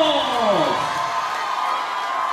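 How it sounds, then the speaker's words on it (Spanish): Studio audience at a Spanish-language variety show cheering and applauding for the cupids, a loud continuous wash of clapping and shouts with a voice trailing off at the start. "¡El aplauso para los cupidos!"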